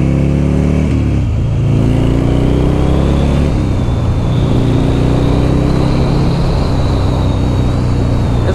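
A 2006 Buell XB12R motorcycle engine roars loudly and continuously on a test drive, the revs climbing and settling through gear changes with a steady throaty drone.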